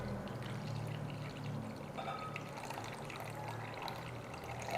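About 325 grams of water pours into a bowl holding sourdough starter, a steady splashing stream that runs for several seconds, close and moderately loud with no talking.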